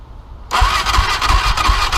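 A Yamaha YFZ 450 ATV fitted with a larger 660 battery fires up abruptly after a short quiet moment. The engine catches at once and settles into a loud, close, steady idle with rhythmic low pulses.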